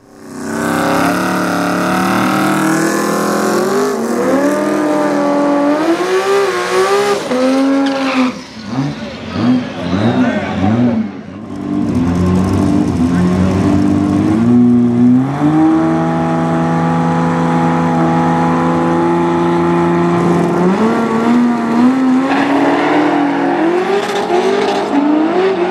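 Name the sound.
Corvette Stingray versus Supra drag race launch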